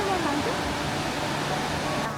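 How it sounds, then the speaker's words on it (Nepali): A broad, steady rush of water from a big river at Sundarijal, loud and continuous through the whole stretch, with a faint voice briefly at the start. "यति ठुलो खोला त यहाँले फर्स्ट टाइमै देख्न आँटेको"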